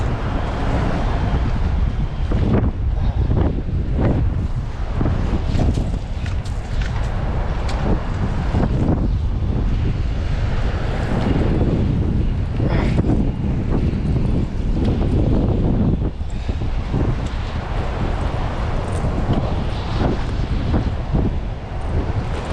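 Strong wind at sea buffets the microphone in a steady, loud roar while fishing from a boat near a channel mouth, with water and boat noise mixed in and no clear talk.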